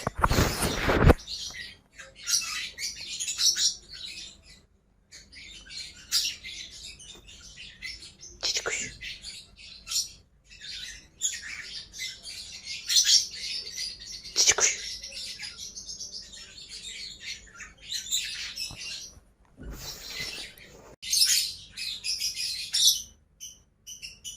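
A paradise parrot chirps and squawks in scattered bursts, with sharp high calls and quieter chatter across a long stretch, close and fairly loud.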